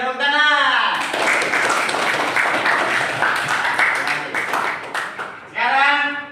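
Classroom clapping from a group of students breaks out after a spoken exchange, a dense burst of many hands lasting several seconds before a voice resumes at the end.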